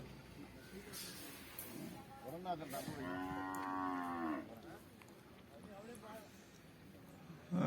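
A buffalo gives a long, drawn-out moo near the microphone, with a rich harmonic tone, over a background of outdoor chatter and cattle market noise.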